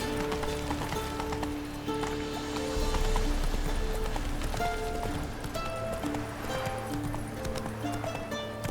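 Roach the horse galloping in The Witcher 3: Hearts of Stone, a steady clip-clop of hooves running under game music and ambience, with a brief snort or whinny possible.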